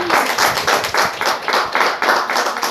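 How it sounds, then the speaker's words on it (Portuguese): A church congregation at a Christmas service claps in praise. The claps are close, loud and rhythmic, with many hands keeping a steady beat throughout. "Que as palmas louvem ao Senhor"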